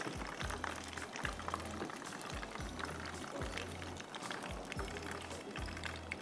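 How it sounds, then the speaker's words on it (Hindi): Spinach going into hot oil in a home kitchen, a steady loud sizzle and bubbling that runs the whole time with no talk. "अब आप देखिए, इसी तेल में मैं आधी पालक डाल दूँ।"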